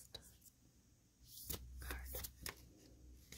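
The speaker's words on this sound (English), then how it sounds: "I'm shuffling for the final time" Oracle cards are shuffled close up in a few quick riffling bursts, soft papery flutters and taps, with faint whispered speech around them.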